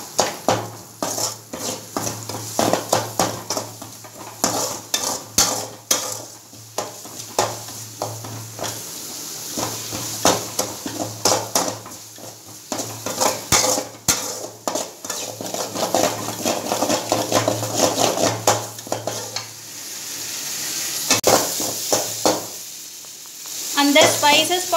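Spiced vegetables for a cauliflower and mushroom dish sizzle steadily in an oily pan while a spoon stirs and scrapes them, with frequent close metallic clinks against the pan throughout, no talking.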